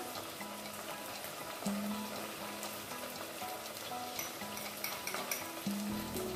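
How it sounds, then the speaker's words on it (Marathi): Mixed masala being stirred into onions frying in a pan for a dried-fish, brinjal and potato curry, with steady sizzling and repeated spatula scrapes and knocks against the pan, close and fairly loud, no voices. "आता आपल्याला ह्याच्यामध्ये मसाला टाकून घ्यायचा आहे।"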